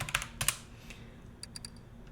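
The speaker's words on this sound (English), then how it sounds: "I hope now my keyboard will be less noisy on the recordings" Computer keyboard keys clatter in quick, uneven taps, a few louder clicks early and lighter strokes after, fairly faint and close with no talking.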